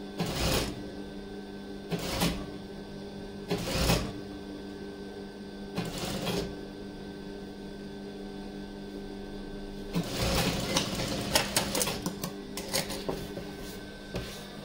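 A sewing machine stitches a pure cotton petticoat in bursts, several short rapid whirring runs separated by pauses, then a longer stretch of stitching, close and with no talk.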